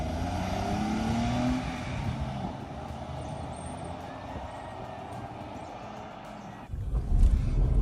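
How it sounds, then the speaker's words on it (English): Suzuki S-Presso S Edition small car picking up speed on the road, a steady engine and road drone with a rising whine, ending in a louder rumble of wind or road noise. "the Suzuki S-Presso is really easy and comfortable to drive, and it also picks up speed very quickly, as you can see"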